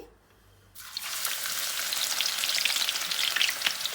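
Sliced onions dropped into hot ghee for crispy fried onions, a near-silent start that bursts into a loud, steady crackling sizzle which continues strongly to the end.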